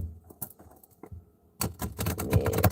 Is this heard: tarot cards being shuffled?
yes